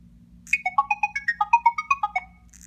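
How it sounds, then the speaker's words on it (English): Google Tone browser extension broadcasting a URL as sound: a quick run of bright synthetic two-note chirps, about fifteen in under two seconds, clear and close over a faint low hum. "So I can click that tone, and you're going to hear this sound."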